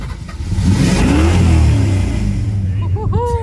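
A vintage race car engine revs hard to clear fuel from its cylinders, a loud, sustained mid-pitched roar that rises and holds, then eases off as a voice speaks near the end.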